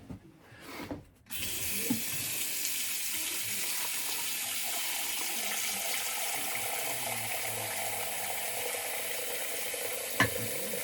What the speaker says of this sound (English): I'm just going to kind of pull this soap off and then just add some water